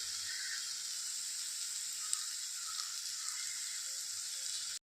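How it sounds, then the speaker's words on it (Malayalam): Okra frying in a pan, a steady, even hiss of sizzling oil at moderate distance that continues unbroken until an abrupt stop, with no voices. "വെണ്ടക്ക ഫ്രൈ ആക്കാനായിട്ട് വെച്ചു ഇത് ഇങ്ങോട്ട് കിടന്നങ്ങനെ പാകത്തിന് മൂത്ത് വന്നോളൂ"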